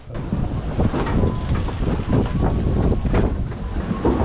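Steady, blustery wind roars across an open microphone on a sailboat during an Atlantic crossing, with the rumble of the boat moving through water underneath; no voices.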